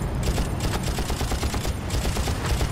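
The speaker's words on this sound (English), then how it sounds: "The rocket man's starting to shoot at me again." Dense, continuous gunfire from a rocket-wielding enemy in the video game Far Cry, with rapid overlapping shots and blasts forming a steady loud barrage with no talking.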